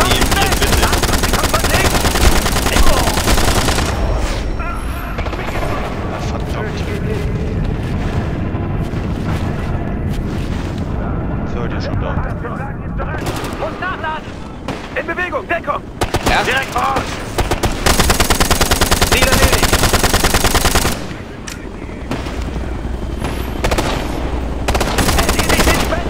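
Sustained machine-gun bursts and gunshots in Ghost Recon combat, loud and dense for most of the stretch, with booms and brief lulls, under occasional speech.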